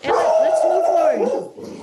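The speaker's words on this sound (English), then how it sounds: "You guys, that is my dog." A golden retriever barks and yowls excitedly indoors, its loud, drawn-out cries tangled with someone talking over it.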